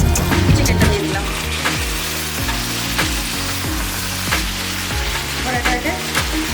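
Chicken pieces frying in a pan over chopped onion, ginger and garlic, giving a loud, steady sizzle close up with occasional stirring and clinking throughout.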